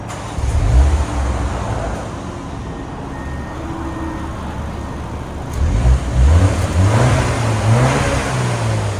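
A 2024 BMW X1 M35i 2.0L turbo on its stock exhaust, heard from outside: a muted idle with a short blip, then a pair of louder revs rising and falling near the end.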